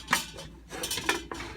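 Plastic fry basket of a NutriChef PKAIRFR20 air fryer sliding out of its housing, a few short clattering scrapes and clicks heard up close over about a second and a half, with no talking.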